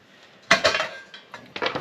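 Metal pots, a frying pan and sporks from a Stanley Basecamp cookset clink and clatter as they are handled, with a sharp burst of rattling knocks, a short pause, then another cluster of close clanks.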